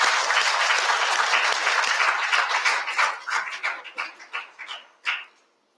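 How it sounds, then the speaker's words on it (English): Students at an International Anti-Corruption Day 2023 event applaud together, a dense burst of clapping that thins out into scattered separate claps and a final lone clap before falling silent. "You people, the students, should give yourselves a very big hand."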